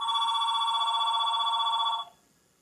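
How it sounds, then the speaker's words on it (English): A phone rings with a steady electronic trilling tone, loud and close, continuing for about two seconds before cutting off abruptly into quiet. "And then my phone's ringing."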